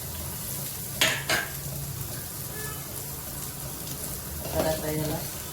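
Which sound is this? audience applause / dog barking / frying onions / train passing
frying onions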